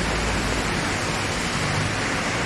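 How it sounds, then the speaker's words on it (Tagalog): Heavy rain from a typhoon pours down outside a city hall, a dense, unbroken roaring hiss that stays loud and even throughout. "malalakas na talaga yung ulan"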